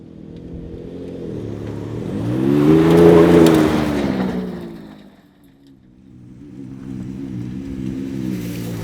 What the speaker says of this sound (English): when you do want to put your foot into it and you do rev the truck up a bit